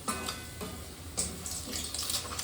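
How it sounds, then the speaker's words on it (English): Sliced onions and mushrooms fry in a pan, a soft continuous sizzle with occasional brighter crackles and stirring scrapes, quiet and close. "still cooking onions and mushrooms"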